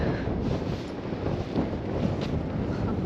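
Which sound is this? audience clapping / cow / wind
wind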